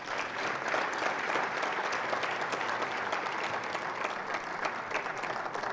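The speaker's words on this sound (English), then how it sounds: "if we can pull the roof down with applause to welcome Mr. Ray Ekwu here, ladies and gentlemen." Applause from an academic festschrift audience welcoming a guest, a dense continuous wash of clapping hands held steady for several seconds, moderately loud with no talk over it.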